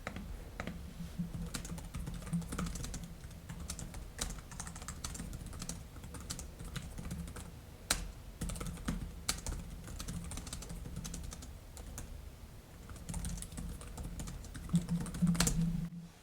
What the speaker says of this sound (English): let's give it a quick typing test here